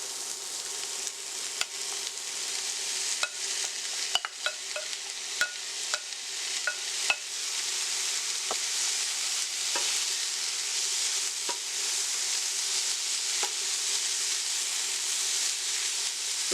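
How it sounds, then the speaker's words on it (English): Saltfish fries fairly dry in a pan for breadfruit balls. It gives a continuous bright sizzle close by, with scattered light clicks and stirring scrapes, and no one speaks. "I'm cooking the saltfish on the drier side, so it's not actually oily"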